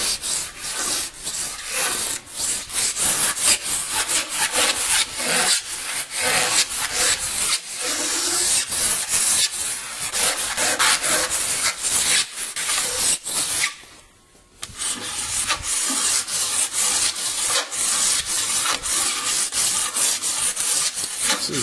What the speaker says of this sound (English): You can scrape on something with a razor blade like this and take off the chunks